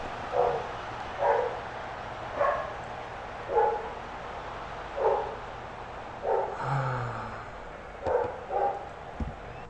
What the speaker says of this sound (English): Doggo's barking at, I think our neighbor's kids.